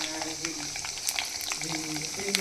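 Mustard seeds, cumin and peanuts frying in a pan, giving a steady, close sizzle broken by brief crackles and pops and the scrape of stirring.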